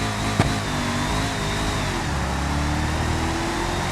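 BMW E39 accelerating in BeamNG.drive, a steady simulated engine drone with rising harmonics and a brief sharp tick near the start, loud and continuous with no talking.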